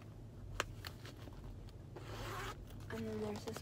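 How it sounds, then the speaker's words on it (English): A small zipper slides along the pocket of a thrifted crossbody purse, producing a short, quiet zipping rasp followed by a brief second pull, faint and close up with a low background hum. "A zipper, little zipper here."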